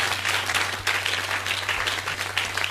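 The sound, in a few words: congregation clapping and applauding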